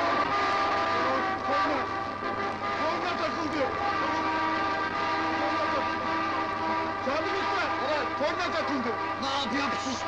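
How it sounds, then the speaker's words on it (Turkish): A stuck car horn blares continuously and loudly throughout, its steady tone running under excited shouting voices. "Korna takıldı!"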